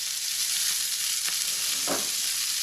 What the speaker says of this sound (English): So we're sizzling with some garlic and some cumin in there, or Geerah.